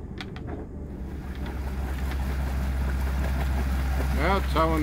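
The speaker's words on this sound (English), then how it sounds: "Now towing the dinghy back." A Catalina 42 sailboat motors along while towing a dinghy behind it, with a steady low engine drone, some wind noise and a voice briefly speaking near the end.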